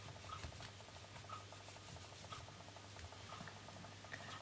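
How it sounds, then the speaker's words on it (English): A cloth rubs silver polish over the back of a silver necklace pendant, a faint, steady scratchy rubbing with soft repeated strokes and a low background hum. "I use a clean cloth to rub over the back of the pendant, which I have just covered with silver polish"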